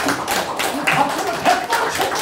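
Applause from an audience at a lecture on Korean unification and human rights, a brief patter of clapping hands close by, mixed with some voices.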